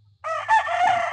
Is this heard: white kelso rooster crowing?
yes